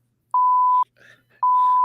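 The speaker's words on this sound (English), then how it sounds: "Beep it again." Two loud, steady electronic censor beeps, each about half a second long, separated by a faint muffled voice.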